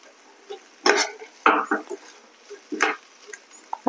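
Vegetable filling for spring rolls, a small onion and other vegetables, tossed and stirred in a bowl with a spoon, giving a few brief scraping and clinking strokes that are soft, close and irregular, with no talking over them.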